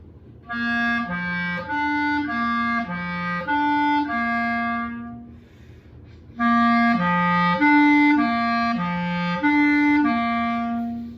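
A clarinet plays a short phrase of tongued notes, each attacked cleanly then held steady, stepping up and down, then repeats the phrase after a brief pause.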